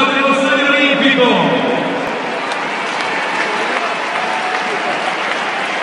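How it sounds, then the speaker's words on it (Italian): Crowd applause echoes around the Stadio Olimpico during a bersaglieri fanfare band performance, a broad roar of clapping that follows a fading brassy tone and then holds steady, loud and diffuse. "e l'applauso dello Stadio Olimpico"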